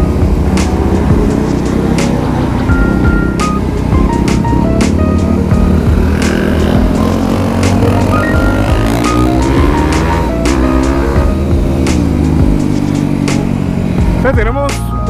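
A group ride of motorcycles of fairly large displacement, including a 701 and a DRZ400SM, fills the scene with loud, continuous engine drone, rising and falling revs and passing machines, with no pauses throughout.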